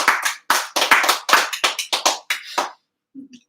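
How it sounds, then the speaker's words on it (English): A scattered burst of hand claps from a small group at a marching band awards banquet, sharp and close, fading out after about three seconds into a brief faint murmur. "round of applause for those gentlemen"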